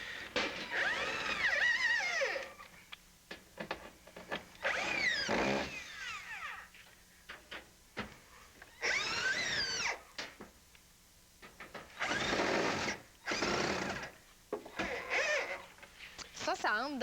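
Power screwdriver driving screws to fasten an exterior duct sleeve into wood, several loud separate bursts of whirring with pauses between, and someone talking in the gaps.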